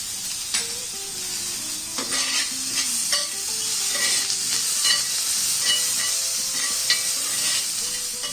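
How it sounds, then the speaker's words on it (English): Curry leaves and crushed green chillies sizzle steadily in hot oil on a tawa, with occasional stirring clinks and scrapes, a close and continuous frying hiss throughout. "I'm also adding in curry leaves and crushed green chillies."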